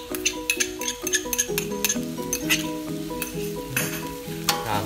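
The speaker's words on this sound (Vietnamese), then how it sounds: "mình sẽ rưới cái phần gia vị mà mình mới vừa pha lên" Seasoning sauce hits stir-fried noodles with bean sprouts and chives in a hot pan, giving a continuous sizzle broken by repeated scraping and clinking of a utensil as the noodles are stirred.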